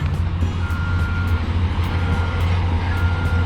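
A dump truck reverses at a demolition site for a retaining wall, its backup alarm beeping in a regular rhythm high over a loud, constant diesel engine rumble.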